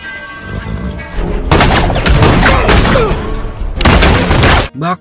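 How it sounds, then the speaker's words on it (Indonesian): A Western cowboy shootout in a frontier town erupts in loud, dense volleys of gunfire with crashes and booms, sustained for several seconds before a sudden cutoff, with a brief voice at the very end. "Baku tembak pun dimulai."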